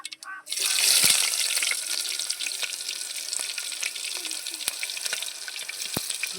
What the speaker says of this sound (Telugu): ఇప్పుడు ఎరగడ్డలు వేస్తున్నాను